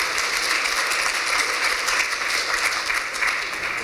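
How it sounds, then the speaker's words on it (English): Steady, dense audience applause fills a hall during a finance minister's budget speech in Ontario, a loud even wash of clapping with no voices on top. "That's clap-worthy."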